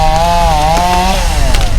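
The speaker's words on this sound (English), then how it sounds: "the chainsaws are out cutting up trees that have fallen over" A chainsaw cuts up fallen trees in town after a storm, its loud, steady, high-pitched whine shifting slightly in pitch as the blade works through the wood, close by.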